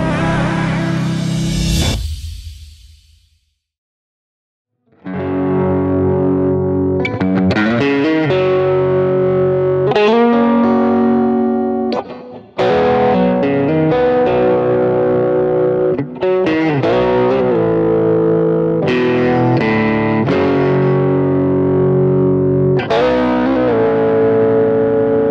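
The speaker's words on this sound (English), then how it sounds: "The SD-1 Super Overdrive pedal produces the warm, natural distortion of an overdriven tube amp" Electric guitar played through a Boss SD-1 Super Overdrive pedal, giving warm, tube-amp-style distortion: a brief strummed chord that fades to a pause, then sustained overdriven chords and riffs, loud and alone.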